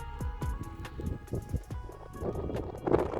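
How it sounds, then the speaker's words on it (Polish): Strong wind buffets the microphone beside a drained reservoir lakeshore in Poland, with rumbling gusts and thumps that rise and fall throughout, loud and close, and no talk. "Nie będzie słabo słychać, bo jest wiatr okropny."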